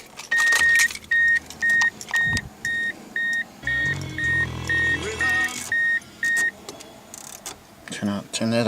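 Keys jangle and a repeated electronic beep chimes in a steady pattern, followed by a 1994 Mercury Tracer's 1.9-liter CVH engine cranking and catching, then rumbling briefly.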